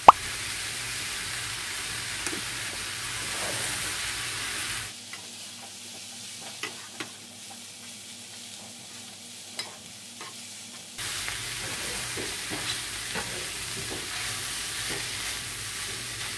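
Chicken and onion frying in a pan, a constant close sizzle with occasional pops and stirring clicks, fading briefly in the middle before returning.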